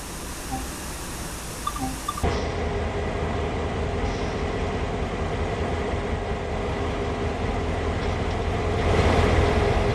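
A GP38-2 diesel locomotive running in the simulator Train Sim World, giving a steady, broad engine drone and rumble that holds for the whole stretch and swells slightly toward the end, with no talk.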